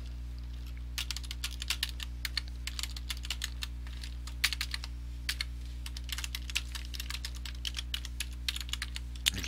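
A login name and password are typed on a computer keyboard as bursts of quick, close, crisp key clicks with short pauses between runs, over a faint steady electrical hum.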